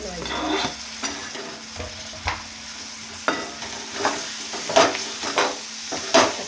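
Potatoes sautéing in hot spiced oil for a dry potato curry, a close steady sizzle broken by repeated sharp stirring and scraping strokes of a spoon against the pan.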